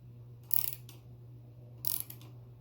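A ratchet socket wrench turns a stud on a 1987 Chevy S10, giving two short bursts of close, rapid clicking about a second apart over a steady low hum.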